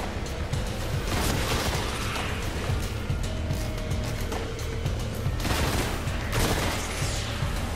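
Gunfire in Destiny breaks out in repeated rapid bursts and booming volleys that pile up over steady loud battle noise, with heavier blasts near the middle and end.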